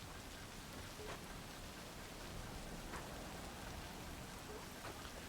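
Steady rain pours in the video game Cyberpunk 2077, a continuous dense hiss of falling water at even loudness with faint scattered drop impacts, no voices over it.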